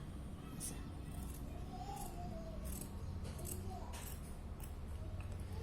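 Scissors snipping through fabric while cutting out a simple petticoat for a three-year-old girl, a few short crisp cuts at close range over a steady low room hum, with faint background voices.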